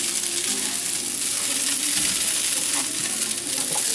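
Leftover baked potatoes frying in a pan, a loud steady sizzle with scraping and clinks as a spatula stirs and flips them, close up and continuous.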